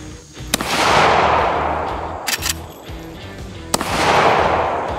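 Three loud, close gunshots fired as warm-up shots at an outdoor range before shooting melons, each sharp crack followed by a long rolling echo, evenly spaced about a second and a half apart.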